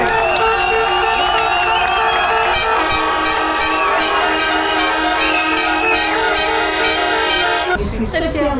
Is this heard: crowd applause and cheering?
yes